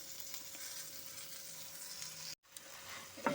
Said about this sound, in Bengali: শিমটা ভাজা ভাজা হয়ে গেছে।